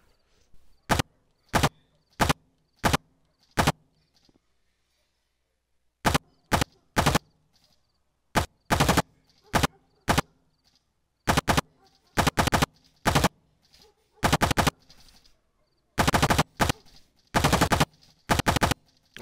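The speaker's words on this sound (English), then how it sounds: "Why it look like somebody was shooting from up here?" Gunfire in the video game Rec Room: sharp, loud bursts of rapid shots, some single and some in quick clusters, separated by short silent gaps, with no talk over them.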